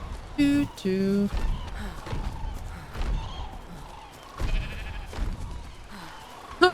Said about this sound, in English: I love how I just hear a sheep in the background.